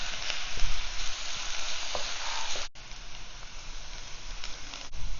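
Sliced onions and a sprig of curry leaves sizzle and fry in oil in a pan for a tomato chutney, a steady close crackle running throughout with a brief dip midway, no talking.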